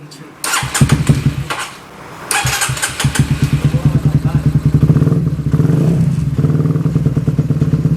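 Honda Dream 150 motorcycle engine starting and revving loudly and close, with repeated throttle bursts settling into a fast, rough, pulsing run.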